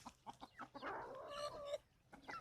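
A rooster, a golden white-laced Dutch bantam meat breed, gives a few soft clucks followed by a drawn-out call, faint and close in a quiet farmyard.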